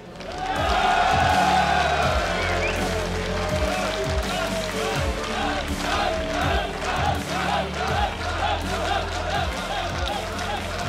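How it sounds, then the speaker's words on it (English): A large crowd at a StarCraft 2 esports tournament in Katowice roars and cheers continuously, a dense, loud wall of noise with a voice talking over it. "What a great crowd here in Katowice. Let's make some noise"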